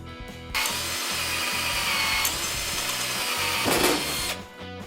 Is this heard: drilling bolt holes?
yes